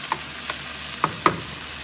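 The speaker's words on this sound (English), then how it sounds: "Now I prefer to saute it with tomato because it tastes a lot better." Tofu and black beans sautéing with tomato in a pan, a steady sizzle broken by a few sharp scrapes of a utensil against the pan, fairly close and unaccompanied by talk.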